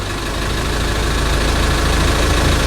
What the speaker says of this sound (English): when I turn the AC on, the engine sound changes.